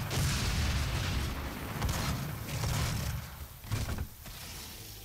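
Dense, continuous gunfire and explosions from DOOM 2016 fill the clip with loud, roaring blasts and mechanical clatter, barely easing toward the end.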